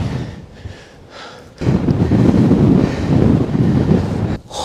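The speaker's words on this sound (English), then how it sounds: "as we get higher, the wind starts to batter" Strong wind on a climb batters the microphone, starting as a softer rumble and then jumping into loud, sustained roaring buffets for several seconds before briefly easing near the end.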